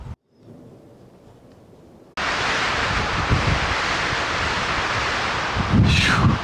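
Strong wind buffeting a microphone outdoors in Zion, starting as a low rumble, then abruptly turning into a loud, continuous roaring rush with a brief gust near the end.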